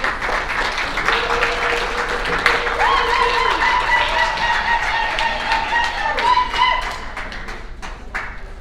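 Audience clapping at a Mothers United event in Pittsburgh as a speaker arrives on stage, a dense, continuous patter of hands with a held tonal sound running through it.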